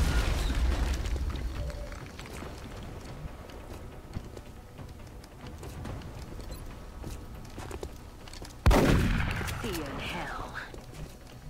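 A grenade blast in the XCOM: Enemy Within strategy game gives a sudden loud boom near the end, after a stretch of rumbling battle noise and scattered impacts with talk over it.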